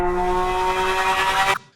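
Porsche GT3 engine in a cinematic sound design edit, a loud sustained roar with steady harmonic tones rising over layered risers, cutting off abruptly near the end into a short tail.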